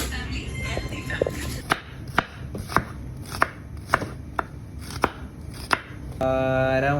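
Onions, shallots and tomatoes being chopped by two people, a series of sharp knife-on-board chops spaced about half a second apart, with background voices throughout and a louder stretch of noise at the end.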